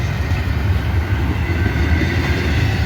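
A BNSF freight train rolls past close by, its steady heavy rumble and rail noise continuous and loud throughout, with a faint clickety-clack of wagons on the track.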